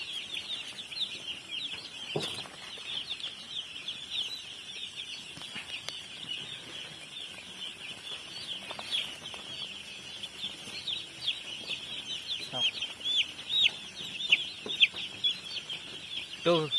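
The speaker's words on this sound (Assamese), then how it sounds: "একদম সুন্দৰ পোৱালি" Newly hatched chicks chirp nonstop in high, thin peeps, some close and some farther off, with occasional soft rustles and faint background noise.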